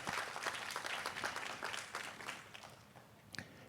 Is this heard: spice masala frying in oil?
no